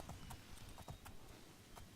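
Horse hooves clip-clop in the Oblivion video game, a steady rhythmic series of close, moderately loud hoofbeats with no talking.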